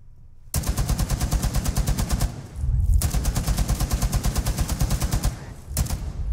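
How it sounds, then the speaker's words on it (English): Rapid automatic gunfire in the game Rainbow Six Siege, two long loud bursts of evenly spaced shots separated by a brief pause, then a short final burst, close and dominant with no talk over it. "Mind your heads, they're gonna shoot through."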